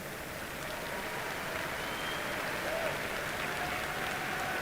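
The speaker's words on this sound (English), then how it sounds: "Please, a round of applause for them." A crowd claps in steady applause, a dense even patter heard from a distance, with faint voices mixed in.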